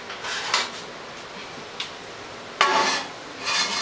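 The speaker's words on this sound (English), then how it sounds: "And then we're gonna put the pot back, the lid back on." Several short scraping and clattering knocks as a lid is set back onto a pot holding no-knead bread dough, close up and alone, spaced irregularly.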